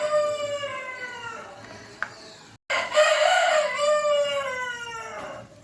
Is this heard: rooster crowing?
yes